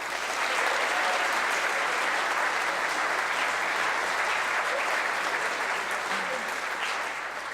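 An audience applauds warmly to welcome journalist Bob Levey at a morning meeting, a dense, steady roar of clapping that holds evenly throughout and fades slightly at the end.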